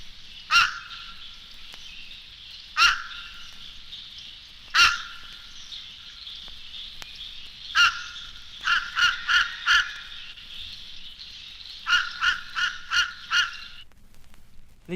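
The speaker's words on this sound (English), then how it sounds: "The call of the fish crow is more abrupt and hoarse." Short, hoarse fish crow calls, some single and widely spaced, then quick clusters of abrupt nasal caws, moderately close against a quiet background.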